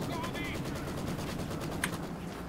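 Machine gun bursts crackle in a D-Day strategy game battle, rapid rattling shots repeating steadily at moderate distance beneath a commentator speaking French.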